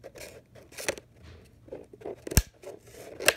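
Scissors cut through a plastic water bottle in a series of close, crisp snips and crunches, spaced irregularly with brief pauses between cuts.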